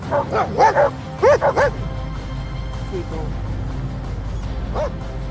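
Dogs bark in a quick burst of several sharp, close yips, then fall quiet before one more bark near the end, over a low background hum.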